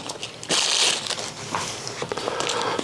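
A replica of the One Ring by Jens Hansen is pulled from a plastic bag: a loud burst of crinkling plastic, then smaller intermittent rustles and crackles, close up with no talk.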